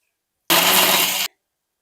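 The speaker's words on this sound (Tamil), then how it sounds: "இப்போ இது எல்லாத்தையுமே சேர்த்து நம்ம மிக்ஸியில அரைச்சுக்கலாம்." An electric mixer grinder blends orange peel, potato and water for a homemade face pack. It gives one loud, harsh whirring burst of under a second that starts and stops abruptly, heard alone.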